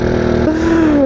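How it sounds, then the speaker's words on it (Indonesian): A Honda C70 motorcycle engine hums steadily nearby, its pitch rising slightly as it revs, with no talk over it. "Ini cuma C70 pak, suaranya seperti ini gitu loh."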